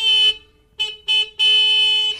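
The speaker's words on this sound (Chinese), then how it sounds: "沁响了拖拉机的喇叭" A farm tractor's horn sounding in a children's story, four loud tonal honks of varying length, the last one long and sustained, with no talk.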